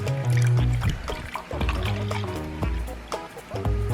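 Milk is poured into a bowl while making banana pudding, a close liquid pour with gurgling and trickling over a low steady tone.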